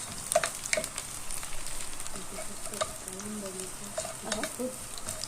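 Chopped onion sautéing in a pan, a soft steady sizzle with occasional scrape and stir clicks, fairly faint and close, with a few faint low voice-like sounds in the background.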